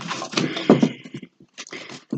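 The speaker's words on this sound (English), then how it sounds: "Extremely hard shuffling a huge deck like this." A huge, double-sized tarot deck is shuffled by hand, giving close, crisp bursts of riffling and card rustle in quick, uneven clusters with brief pauses between them.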